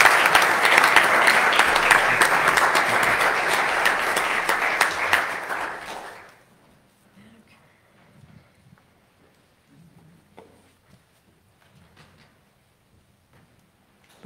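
Church congregation applauding during a Sunday Mass, a steady, dense clapping that fills the room for about six seconds, then stops abruptly, leaving quiet room tone with small shuffles.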